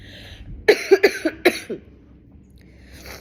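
A burst of several short, harsh coughs in quick succession, close and fairly loud, followed by quiet breathing.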